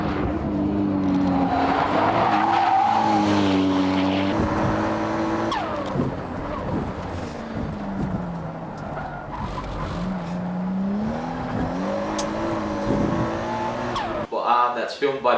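A Toyota Supra tuned by Amuse, running a GT30 turbo, is driven hard on track, with a loud engine revving up and down through gear changes, tire noise and a voice talking over it.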